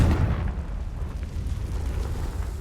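Confringo explosion spell cast in a Harry Potter video game, a deep rumbling blast that rolls and fades over a couple of seconds, loud and low, no speech.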